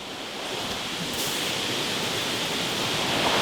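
A loud river roars steadily at close range, a dense broadband rush of water that swells slightly and never lets up, with no voices over it.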